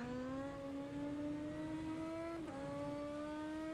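A BMW M4 DTM Class 1 race car in the rFactor 2 sim racing game, recorded at Hockenheim, holds a loud, steady high-revving engine drone that climbs in pitch, dips briefly with a gear change, then climbs again.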